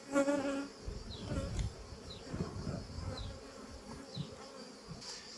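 Honeybees buzzing around an opened beehive during an inspection, a dense, agitated hum with individual bees zipping close past, steady and fairly near, with faint handling knocks and no talk.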